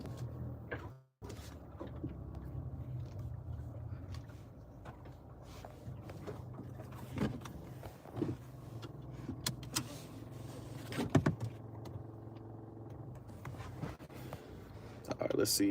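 A car is being parked, with a low steady engine rumble, scattered clicks and mechanical knocks, and a brief whirring motor sound, while someone talks throughout.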